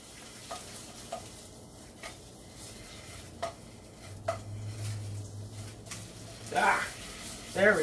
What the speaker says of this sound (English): So I got the sausage in the pan right now.